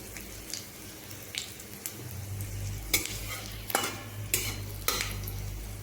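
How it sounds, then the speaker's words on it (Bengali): Panch phoron and cardamom sizzling in hot oil, a steady low frying hiss with several sharp spoon-on-pan stirring scrapes and clinks spaced irregularly, close up. "এখানে আমি কিছুটা পাঁচ ফোড়নও দিয়ে নিলাম"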